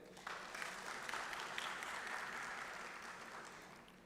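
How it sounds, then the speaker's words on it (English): Applause rings out for dignitaries on the dais at an inaugural conference session, a steady, faint patter of clapping from a seated audience lasting several seconds with no voices. "A big round of applause for them."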